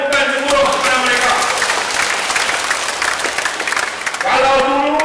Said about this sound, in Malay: Berikan tepukan gemuruh kepada mereka.